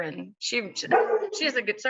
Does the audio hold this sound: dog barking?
yes